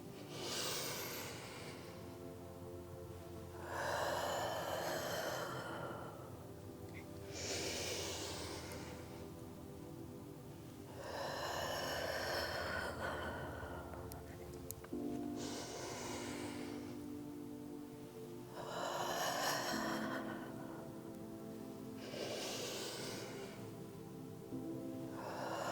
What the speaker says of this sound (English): we're gonna do that for 5 more breaths